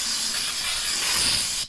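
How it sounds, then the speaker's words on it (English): Aerosol brake cleaner sprayed hard onto a car's brake, a loud continuous hiss held close for under two seconds before cutting off abruptly. "Spraying the crap out of it"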